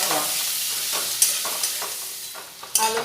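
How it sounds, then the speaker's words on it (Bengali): Potatoes fry in a pan and are stirred, giving a steady, close sizzle broken by several scraping stirs and brief clatters of the utensil against the pan, with no talking. "খুব ভালোভাবে নাড়াচাড়া করে লাল লাল করে ভেজে নেব"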